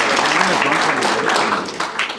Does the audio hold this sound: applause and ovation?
yes